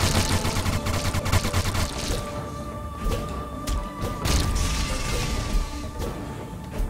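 A grenade blast amid dense gunfire in the video game Starbreak, heavy thuds and crackling shots in quick succession, loud and close with no talking.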